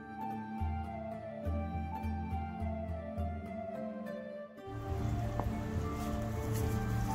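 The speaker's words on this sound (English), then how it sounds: "As you guys can see, it is raining, it is cold" Steady rain falls on a cold, wet day outside the Louisiana Renaissance Festival, a continuous close patter that grows denser and louder partway through, with no voices over it.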